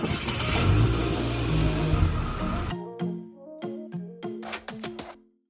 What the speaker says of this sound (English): I'm gonna lock the car and put the remote start on for Chase with the air conditioner cranking.